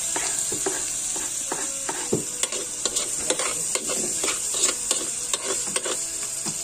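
Hotdogs fry in a pan for spaghetti meat sauce, with a steady bright sizzle and scattered pops, clicks and stirring scrapes close by, and no talking.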